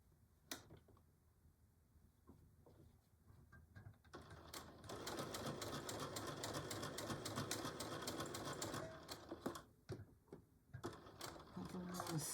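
A sewing machine stitches a Betty Boop pillow cover in rapid, even mechanical bursts, with short pauses between runs and faint handling noises and clicks around them.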